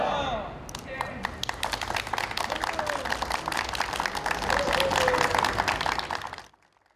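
A crowd in the front yard of Yeouido Baptist Church applauds steadily as the Christmas tree lights are switched on, the dense clapping lasting several seconds before cutting off, with voices mixed in.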